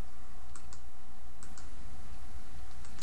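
A computer mouse gives several sharp, close clicks in quick pairs against a steady background hiss.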